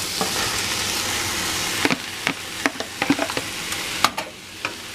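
Rice stirred into chicken thighs and vegetables frying in a pan, a steady sizzle with scattered scraping and clanking utensil strokes, no talk.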